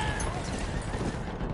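Horse hooves clatter with neighing in a multiplayer shooter video game, a busy dense mix that holds steady and fairly loud through the short moment.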